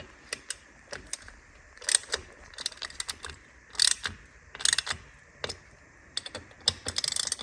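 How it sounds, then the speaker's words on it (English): A quarter-inch drive ratchet tightens Akrapovic titanium exhaust bolts on a BMW R NineT, giving close, quiet bursts of rapid clicking pawl strokes separated by short pauses. "I'm going to swap over to a quarter drive ratchet now"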